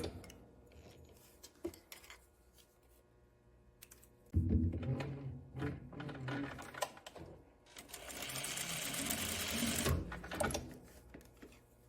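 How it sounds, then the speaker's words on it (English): A sewing machine runs an edge stitch on a tie top, starting with quiet clicks, then whirring in bursts of rapid needle strokes with short pauses between runs. "So just a bit of an edge stitch, just to keep it in place."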